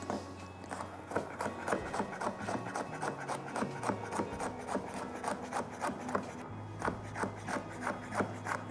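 A knife finely chops a spicy chili pepper on a cutting board, producing rapid, steady, close-up rhythmic taps and scraping strokes running throughout at moderate volume, with no talk.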